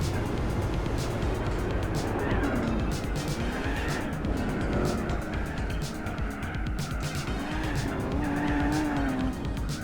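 Tires squeal on a big-block Buick Custom driven hard in Gran Turismo 4, wavering pitched squeals rising over a steady loud engine roar through the whole stretch, with a voice talking at times.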